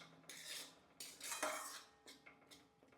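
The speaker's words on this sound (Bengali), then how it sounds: "এবার এটা একটু নেড়ে নেব" A spoon scrapes and clinks against a cooking pan in a few bursts while spices are stirred for a potato, eggplant and bata fish curry, close and quiet, with no talk.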